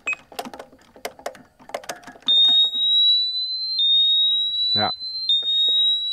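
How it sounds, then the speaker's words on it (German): Alarm system in its second stage: after a series of light clicks and taps, a loud, piercing, sustained electronic tone starts and holds steadily to the end, briefly overlapped by a short spoken word. "dann geht die Alarmanlage an."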